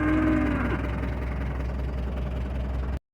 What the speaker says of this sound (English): Poor skinny cows.